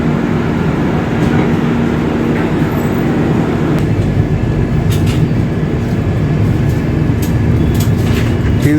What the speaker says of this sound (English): let's see the departure of this train from Dr. Ambedkar Nagar railway station